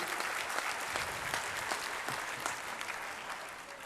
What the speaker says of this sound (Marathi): एकदा जोरदार टाळ्यांचा गजर होऊन जाऊ द्या मित्रांनो प्लीज